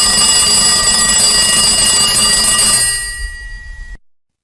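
A telephone ringing on a call to transport information at London Heathrow Airport, a loud steady electronic ring that holds for about three seconds, then fades and cuts off, with no talk.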